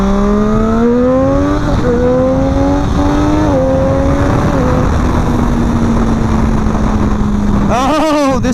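A 2017 Triumph Daytona sport motorcycle engine rumbles loudly and steadily on a test ride, its pitch climbing and dipping through several revs before a sharp throttle blip near the end.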